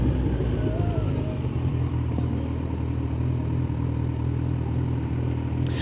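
Road noise while commuting by motorcycle, with a KTM motorcycle riding behind: steady low engine rumble and wind roar throughout, faint higher engine tones, no clear talk.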